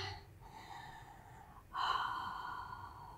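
Breathing during a Pilates mat exercise: a soft, airy inhale followed by a louder, longer exhale, close to the microphone and alone.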